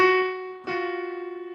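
A minor second interval sounds as two close-pitched, sustained harmonic tones, one struck and fading, then a second attack that rings on with a gentle wavering shimmer.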